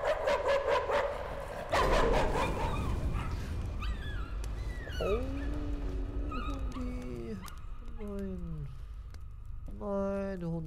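Dog barks and whimpers from a dog in the horror video game Layers of Fear, a few sharp yelps early on, then whining, rising tones over a steady murky game ambience, with a voice talking in places.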